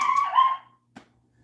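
A dog barks or yelps in a room during a game of 8-ball pool, a single loud call followed by a short, fainter yip a moment later, then quiet.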